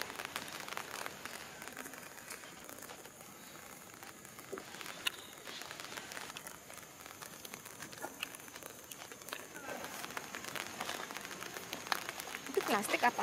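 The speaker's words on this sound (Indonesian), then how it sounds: "Ini hujan-hujan di sini guys." Steady rain falls in a nature park in Singapore, a soft continuous patter and hiss close by with scattered drips, while people talk quietly in the background.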